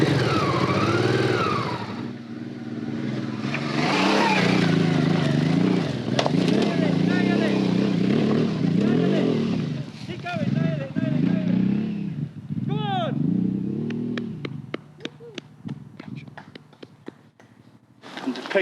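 Off-road motorcycle climbing a hill slope, its engine revving and labouring loudly through most of the run, then easing off into clicks and faint rattles near the end, with people talking over it.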